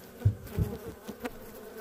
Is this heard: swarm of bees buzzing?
yes